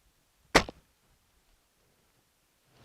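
A Barnett Razr crossbow fires once at a block target, a single sharp, loud snap-thwack with a brief rattle after it, then near silence.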